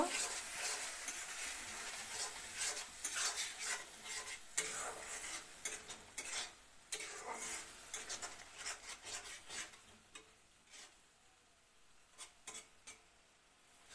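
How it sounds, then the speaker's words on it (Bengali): Chili paste and spice paste for a small fish curry are stirred and sautéed in a pan, giving a soft continuous sizzle with scraping and rubbing strokes, quiet and close. "এবার দিয়ে দিলাম লঙ্কা বাটা। মশলাটা ভালো করে কষিয়ে নিতে হইব।"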